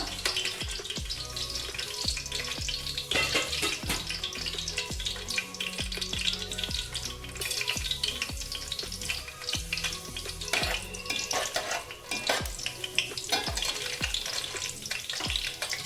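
Bay leaves drop into hot oil for a Delhi-style beef chops gravy, raising a loud, dense crackling sizzle with frequent sharp pops and utensil knocks throughout, and no speech.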